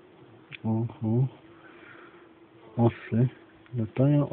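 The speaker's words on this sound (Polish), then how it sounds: "Osy. Latają osy." Wasps flying near a beehive, a faint continuous buzzing hum under a voice speaking in short phrases close by.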